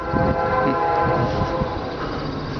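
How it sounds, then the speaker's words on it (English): A train rumbles past the abandoned McCray Refrigeration plant in northern Indiana, its horn sounding a steady, sustained blast over the heavy, continuous roll of wheels and cars, loud and near. "Train in the background, of course."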